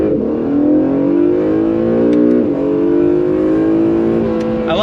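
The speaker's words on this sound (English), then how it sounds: "Let's go on throttle from a dead stop." An Acura NSX pulls away from a standstill on full throttle, its engine note climbing steadily in pitch as it revs, loud and continuous for about five seconds with a brief dip around a gear change.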